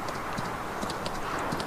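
Horse hooves clip-clop in Farming Simulator 19 as a ridden horse moves at a steady walking rhythm, repeated light hoof strikes over a continuous ambient game background.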